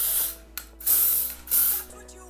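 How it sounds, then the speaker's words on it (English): Hairspray is sprayed onto hair in a few short hissing bursts, close and fairly loud, separated by brief pauses. "Spray that all over my hair."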